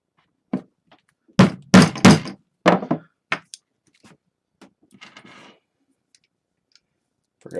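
Leather holster work for a Springfield 1911 pistol: a handful of sharp, loud knocks from punching holes in leather, some in quick pairs, then lighter clicks and rustling in a quiet room.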